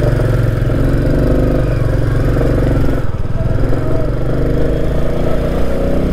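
A Royal Enfield motorcycle runs steadily on the road, its loud, close engine rumble throbbing evenly throughout with a brief dip midway, and no voices over it.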